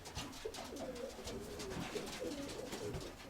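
Pigeons in a loft cooing in soft, low, repeated rolling calls, faint and continuous over a background hiss.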